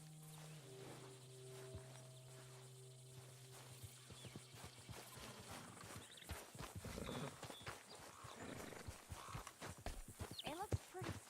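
Horse hooves clip-clop in Red Dead Redemption 2, a steady walking rhythm of close, distinct steps that grows louder and busier in the second half, with game voices speaking over it and some low tonal hums early on.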